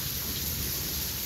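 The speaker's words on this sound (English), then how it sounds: "It's raining pretty good." Steady rain falls in Pinedale, Arizona, a soft continuous hiss of drops on surfaces, even and unbroken, with no voices.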